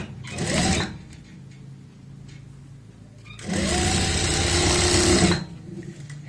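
A sewing machine stitches a belt onto a trouser waistband, heard close and loud in a short burst, then after a quieter pause a longer steady whirring run before stopping.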